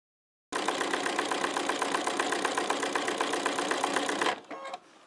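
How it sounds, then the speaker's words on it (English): A sewing machine stitches through coiled rope to make an embroidered rope bowl, running fast and steady for about four seconds before stopping. Quieter handling noises follow, and no one speaks. "I'm rather surprised that this is sewing this easily."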